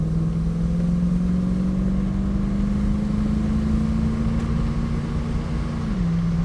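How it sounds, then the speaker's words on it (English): Engine of an SL or Stag car with a three-speed gearbox pulls hard down a long straight road, a loud, steady rising drone that drops sharply at a gear change near the end. "Oh, there's the gear change."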